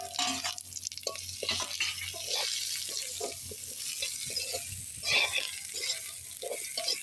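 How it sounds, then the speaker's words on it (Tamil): Sliced onions hit hot oil already holding fried curry leaves and dried chillies, giving a steady sizzle with stirring scrapes and clatter throughout. "இப்போ வெங்காயத்தை போடுவோம். வெட்டி வச்சுருக்கிற வெங்காயத்தை"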